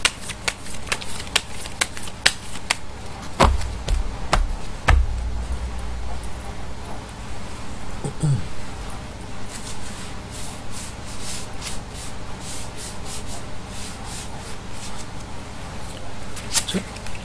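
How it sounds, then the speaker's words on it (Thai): Tarot fortune cards shuffled for a daily horoscope reading, a soft continuous riffling rustle with several sharp card snaps and taps, close and steady throughout with no talk. "เดี๋ยวจะมาเสี่ยงไพ่24ดูให้เพิ่มเติมนะครับว่า ดวงชะตาของคุณในวันนี้จะเป็นอย่างไรบ้างนะ"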